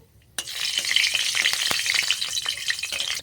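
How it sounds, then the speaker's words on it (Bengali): Whole black peppercorns, sugar and cardamom seeds hit hot oil with a sudden loud sizzle, then keep frying in a steady crackling hiss, with scattered stirring clicks and no talking. "তেলটা গরম হয়ে গেছে, তেলের মধ্যে দিয়ে দিচ্ছি চিনি, আর দিয়ে দিচ্ছি গোলমরিচ, গোটা গোলমরিচ, আর দিয়ে দেব এলাচ দানা"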